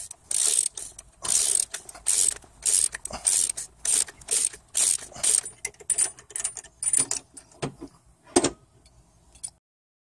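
A ratcheting stud removal tool clicks as it backs an engine stud out, giving rapid bursts of sharp ratchet clicks in an uneven rhythm, close and fairly loud, fading out near the end.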